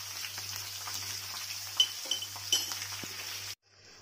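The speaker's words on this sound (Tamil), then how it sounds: "பாருங்க, இந்த மாதிரி நல்லா ப்ரௌன் கலரில் எல்லா வெங்காயமும் ஃப்ரை ஆகிருக்கணும்." Onions fry for pepper chicken gravy in a soft, steady sizzle, broken by a few light clinks of stirring before the sound cuts off abruptly near the end.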